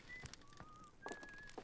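A character in the Outer Wilds video game whistles while sitting in a chair, giving a few faint, thin sustained notes with soft background noise and small clicks.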